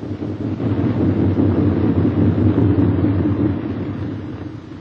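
A World War II B-17 bomber comes in to land with its left inboard engine dead, heard as a loud, steady low engine drone and rumble that swells and then eases slightly.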